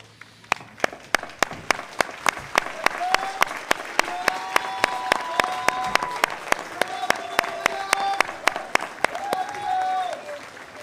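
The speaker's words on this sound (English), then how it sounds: "face these supporters, and give them a round of applause" Graduating seniors of the class of 2021 stand and applaud their supporters at a high school graduation ceremony, a full sustained crowd applause with sharp regular claps standing out nearby, and a few voices calling out over it.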